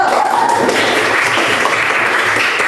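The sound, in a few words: applause for group 1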